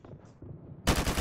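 Rapid automatic AK rifle fire from the video game Modern Warfare Remastered breaks out suddenly after a quiet moment, a loud dense burst lasting the final half second.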